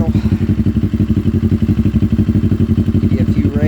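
A CFMoto motorcycle engine idling close by, its exhaust thumping in a quick, even, loping rhythm with no talking.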